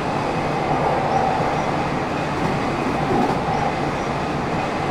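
Simulated Tokyu Toyoko Line express train from the BVE5 train simulator game rumbles steadily along the rails, a loud continuous interior drone with faint wheel noise and no speech.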